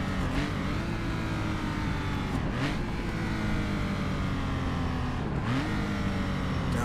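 A historic race car on a road circuit brakes hard and downshifts to first gear for a slow corner, its engine roaring loudly and continuously with sharp blips and revs falling and rising between shifts.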